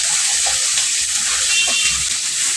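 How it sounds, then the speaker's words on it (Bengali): Mixed fish coated in turmeric and salt frying in hot oil, a loud, close, steady hiss with occasional soft bubbling and clinks, no voices. "এখন আমি এগুলাকে তেলের উপরে ভেজে নিচ্ছি"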